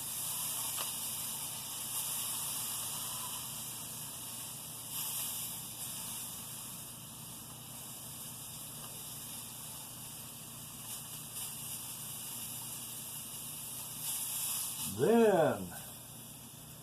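Searing the fat edge of a wagyu New York strip steak gives a low, steady sizzle and hiss that runs throughout, with a short louder burst near the end, while a voice speaks briefly over it.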